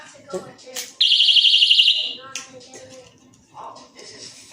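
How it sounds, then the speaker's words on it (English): A piercing, warbling electronic alarm from a personal safety alarm shrieks for about a second, loud and close, with people talking before and after. "it comes with 5 different alarms. These are supposed to be real loud."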